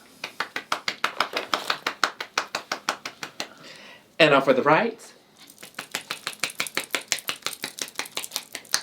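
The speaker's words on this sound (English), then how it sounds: "I can clap with one hand." A woman claps with one hand, fingers slapping her palm in a fast, steady run of sharp, close-up taps that pause briefly while she speaks, then resume.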